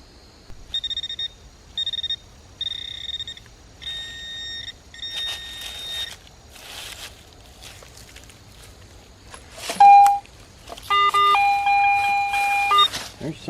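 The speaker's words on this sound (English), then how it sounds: "So let's get the detector out and take a look around." A metal detector searching around an old barn gives a series of short electronic beeps and tones in bursts, some steady and some warbling, with a louder tone near the end; a clunk and rustling steps are mixed in.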